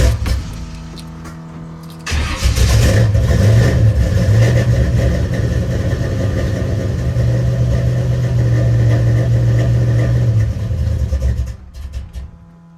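A car engine fitted with new, louder mufflers fires up and runs with a deep, steady rumble on a cold morning, loud and close for about ten seconds before dropping away.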